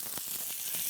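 Steak searing in a hot, dry pan, a continuous bright sizzle and hiss heard close and steady, with no voices over it.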